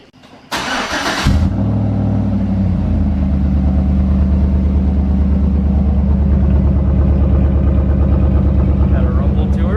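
A 2011 Chevrolet Silverado with a Stainless Works cat-back exhaust starts with a sharp burst, then settles into a loud, deep, thumpy rumble that stays close and steady, with people talking over it.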